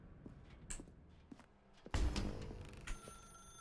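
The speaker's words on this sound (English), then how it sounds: "Now pick up the phone" A telephone rings twice inside The Stanley Parable video game, a short electronic ring followed by a louder, sustained ring with a hum trailing after it, with faint footsteps and clicks earlier and no talking.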